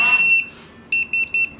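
Short electronic beeps from the keypad of a TD175 pager system: one longer tone, then three quick evenly spaced beeps, clear and close against near silence.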